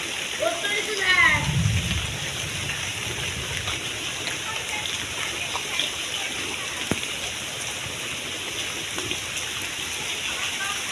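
Steady rain falls outdoors as an even, close hiss that continues throughout, with a brief low rumble and a short voice near the start.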